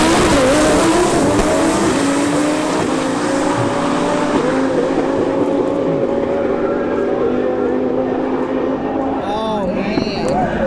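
Lamborghini Huracan Alpha 16 race car at a drag elimination round, its engine loud and sustained with rising and falling revs throughout, crowd or voices faintly underneath.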